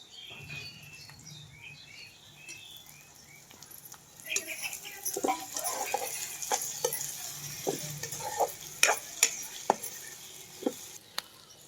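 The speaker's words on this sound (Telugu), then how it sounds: "టమాటాలు కూడా వేసుకుంటున్నాను" Tomatoes frying in a pan, a soft sizzle under a woman's speech, with stirring taps and scrapes becoming more frequent and sharper in the second half.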